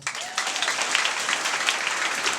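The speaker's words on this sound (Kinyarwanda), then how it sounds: "Tugere Imana amashyi." A church congregation applauding God in worship, with dense, steady clapping from many hands filling the room at even loudness from start to finish.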